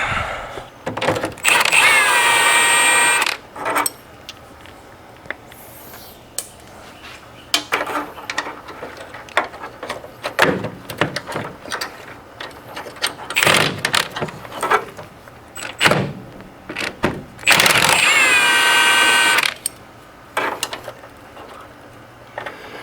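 Wrench work on the suspension bolts of a 1970 Ford Mustang Mach 1 during a bushing change: bursts of ratcheting clicks and scattered metallic clanks come and go, with two longer, louder buzzing ratchet runs, close by.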